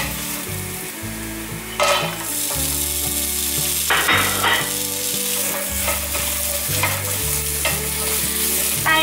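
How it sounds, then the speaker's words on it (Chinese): Carrots and shredded ginger stir-fried in a wok, loud continuous sizzling with repeated scraping and knocking of the spatula against the metal, close up and without talk. "大约略炒一下"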